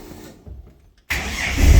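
Toyota Coaster bus with a Barra engine swap and new spark plugs cranks and fires up after a brief quiet pause, then runs loud and close with a rising, rumbling idle.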